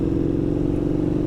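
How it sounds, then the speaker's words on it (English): A motorcycle engine running with its exhaust baffle removed, giving a steady, loud, deep throaty exhaust drone close by for a brief moment with no talking. "the bike just doesn't sound as good to me without the baffle out"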